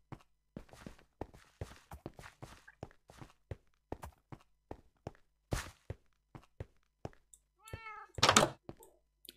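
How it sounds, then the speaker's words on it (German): A cat meowing in the video game Minecraft, a short burst of a few rising meows near the end, after a long run of steady game footsteps and soft knocks. "Ich höre die Katze schon mauzen."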